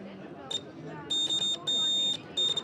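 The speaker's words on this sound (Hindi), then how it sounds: "इस पे लाइट जल रही है तथा बजर का आवाज़ भी ज़्यादा है" Beeping buzzer on a student-made soil acidity testing machine, sounding in several loud, steady electronic tones of varying length in quick succession, with a faint voice murmuring underneath.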